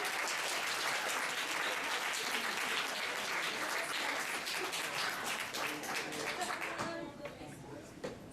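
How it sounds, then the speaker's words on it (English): An audience at a live event in Sonoma County gives a dense, sustained round of applause. Many hands clap steadily and loudly, then the applause thins and fades toward the end. "Can we have another round of applause"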